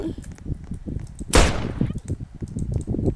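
A single sharp gunshot burst in a city video game rings out at close range amid background game noise and muffled chatter.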